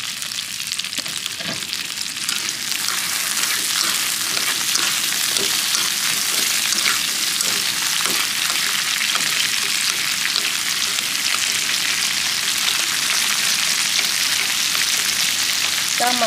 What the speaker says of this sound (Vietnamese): Còn ít nữa mình xào tôm cho nó thơm mấy con tôm nè.